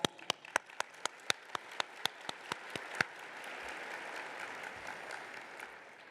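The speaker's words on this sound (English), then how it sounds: "So stand up, Devin, let's give you a round of applause." A round of applause at a museum association's annual meeting general session: a dozen sharp, evenly spaced claps from a single person near the microphone quickly give way to steady, distant applause from the audience.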